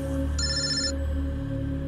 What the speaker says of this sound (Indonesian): terdengar suara telepon